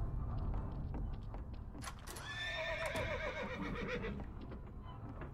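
A horse whinnies in the video game Garry's Mod, a clear rising and falling neigh in the middle of the clip over steady game background noise, with some faint clip-clop hooves.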